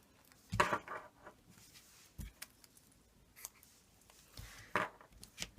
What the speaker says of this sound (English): So if I just snip some of this off.